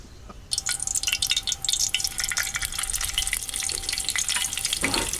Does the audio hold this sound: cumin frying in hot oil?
yes